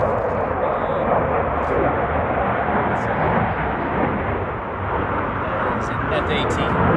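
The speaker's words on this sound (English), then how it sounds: "Hang on, we got a jet flying over." An F-18 fighter jet flies overhead during an outdoor taekwondo class, producing a loud, continuous broadband roar that fills the whole clip with no clear break.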